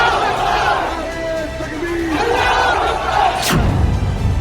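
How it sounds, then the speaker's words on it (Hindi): A rally crowd chants the Takbeer slogan in response, a loud massed roar of voices shouting together, with a sharp burst near the end. "नारे तकबीर"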